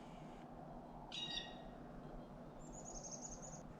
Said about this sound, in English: I got a hawk here.